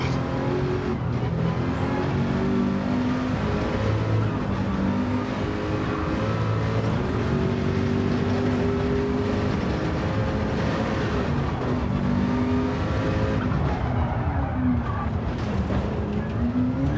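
A race car runs a lap in the Gran Turismo 7 video game, with a loud, continuous engine drone that rises and falls through gear changes and revs, steady throughout, with no talking.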